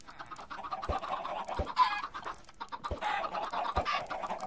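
Several chickens in Minecraft cluck and squawk nearby in irregular bursts, with a few sharp thumps scattered through.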